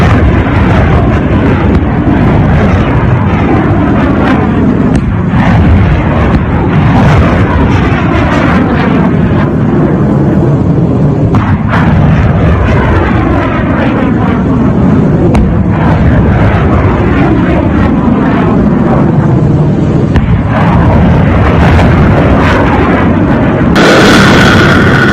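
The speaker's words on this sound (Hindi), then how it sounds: "ईरान ने एक के बाद एक आधा दर्जन से ज्यादा मिसाइलें अमेरिकी बेस पर दाग दी।" Missile strikes on a US military base, a loud, continuous roar of blasts and rumbling impacts layered with jet-like rushing noise, dense and saturated throughout with no pauses.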